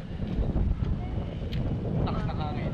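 Gusty wind at a hilltop at night buffets the microphone with a low, rushing roar, and faint voices and outdoor noises sit in the background.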